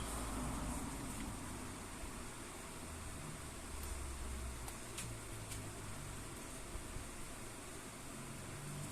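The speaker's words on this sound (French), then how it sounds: "Là j'ai le ventilo, donc vous allez peut-être entendre le bruit" An electric fan runs in a room where paper crafting is under way, giving a steady, even broadband whoosh that stays constant throughout with no breaks.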